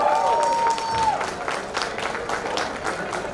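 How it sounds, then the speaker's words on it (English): Audience at a sangeet ceremony breaks into steady, enthusiastic clapping with some cheering, a dense patter of hands throughout, with a brief tone at the start. "Can we give them a huge round of applause one more time?"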